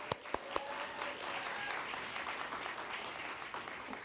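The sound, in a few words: audience applause for an award recipient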